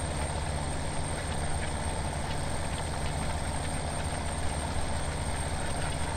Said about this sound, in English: This tractor is super nice though.